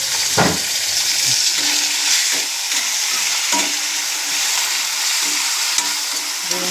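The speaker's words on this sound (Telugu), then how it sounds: "ఇలా నూనెలో వేగించి బాగా వేగించేసుకోవాలంట" Ridge gourd fries in oil in a pan, a loud continuous sizzle broken by repeated scraping stirs and light knocks of a spoon, close and without talk.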